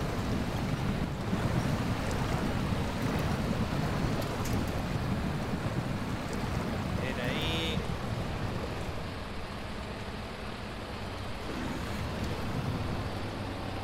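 A heavy truck in the SnowRunner video game churns through water, a steady broadband rush of splashing and sloshing with a low engine drone underneath, continuous and fairly close throughout.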